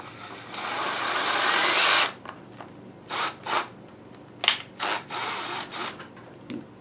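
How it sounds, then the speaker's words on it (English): A power drill bores into a plastic jug in one sustained two-second run, then follows with several short bursts of the motor revving and stopping, close and loud. "drill this where I want it"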